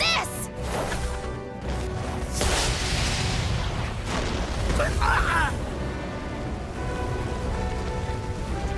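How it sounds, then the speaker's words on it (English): A magic explosion in the action game Infinity Strash: Dragon Quest The Adventure of Dai, a booming, rumbling blast with crackling debris that runs under dialogue and game music. "What was that explosion back there?"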